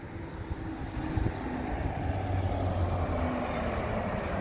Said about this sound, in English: There's a McGill's bus